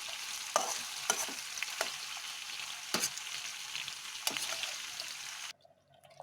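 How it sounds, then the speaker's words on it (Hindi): Lotus stem and koftas frying with a continuous crackling sizzle, punctuated by several sharp pops and clinks, then cutting off abruptly near the end. "हमारे नादरू, लोटस स्टेम और कोफ्ते बिल्कुल अच्छे से फ्राई हो गए हैं।"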